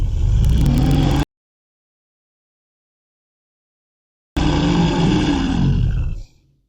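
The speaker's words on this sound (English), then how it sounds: "The bear growls when angry." An angry bear growls in two loud, rough roaring bursts with a stretch of silence between them, the second fading out at the end.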